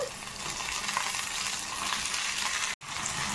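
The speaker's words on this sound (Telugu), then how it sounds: "కొంచెం జీలకర్ర పచ్చిమిర్చి కొంచెం ఫ్రై అయిన తర్వాత టమాటాలు వేసేసుకోండి" Tomatoes go into hot oil with cumin seeds and green chilies, giving a loud, continuous close sizzle with light stirring, broken by one brief cut to silence near the end.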